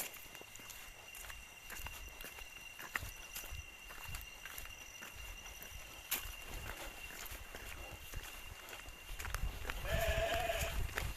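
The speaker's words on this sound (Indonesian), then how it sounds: "ada suara kambing." Rain-soaked outdoor ambience with footsteps in heavy rain, then goat bleats rise near the end, several calls close by over heavy background noise.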